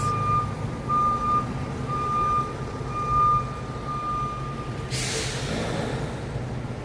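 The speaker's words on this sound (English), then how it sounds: "That fire truck is pulling back into the station there" A fire truck backs into its station on Front Street East in Toronto, its reversing alarm beeping in a steady, evenly spaced series over engine idle, followed by a sharp burst of air hiss near the end.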